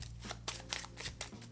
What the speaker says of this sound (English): Here, they're going to shuffle